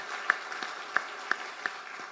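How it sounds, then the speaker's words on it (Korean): A church congregation gives quiet applause, a soft wash of clapping punctuated by a few distinct, sharper claps spaced irregularly. "다시 한번 하나님께 영광의 박수 올려드리겠습니다."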